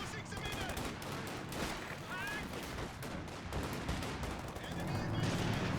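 Artillery barrage in the Men of War strategy game with the Blitzkrieg mod, a continuous rumble of distant explosions and gunfire under a steady battle din, moderately quiet, with faint talk mixed in.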